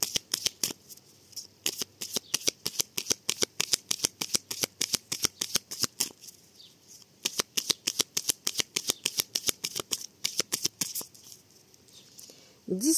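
Oracle cards riffled and cut in a shuffle, a long run of quick, crisp flutters and snaps in bursts with brief pauses, close and fairly loud.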